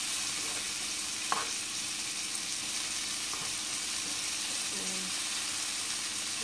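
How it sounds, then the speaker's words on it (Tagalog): A hotdog browns in a frying pan beside vegetables, giving a steady close sizzle and hiss with a few light utensil clicks and stirring scrapes, no talk. "Medyo pa-brown lang siya yung hotdog para maluto siya."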